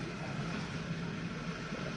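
A GE dishwasher from 2025 runs with a steady, broadband wash that sounds like ocean waves, a constant whooshing hiss without breaks and no talk over it.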